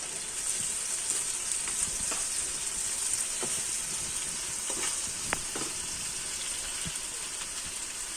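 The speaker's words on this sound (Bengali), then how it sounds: "4-5টা পেঁয়াজ কুচি আর 2-3 কোয়া রসুন কুচি দিয়ে দিলাম। ভেজে নেব।" Chopped onions and garlic fry in oil in a pan, giving a steady close sizzle with faint crackles and small pops throughout and no voices.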